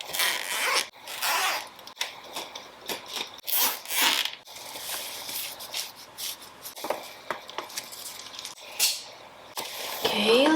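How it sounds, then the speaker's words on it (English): A plastic zip tie is ratcheted tight in repeated close, sharp zipping pulls, fastening a DIY moss wall panel on an Ikea Milsbo greenhouse cabinet, with short pauses between strokes. "and zip tie."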